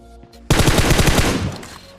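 A rapid burst of automatic gunfire in a battle royale video game, loud and close, lasting about a second before fading, with no talking.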